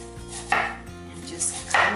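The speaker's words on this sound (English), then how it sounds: "So let's remove all those big thick parts out" A knife chops through thick vegetable parts on a cutting board while aguachile verde is prepared, giving a few sharp, close cuts spaced irregularly, the clearest near the middle and at the end.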